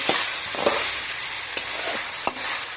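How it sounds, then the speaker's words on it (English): Sausages with ginger garlic paste and other ingredients stirred in a frying pan for chicken sausage fried rice: a steady close sizzle broken by a few sharp spoon scrapes and clacks, no voices. "We mix all these ingredients together."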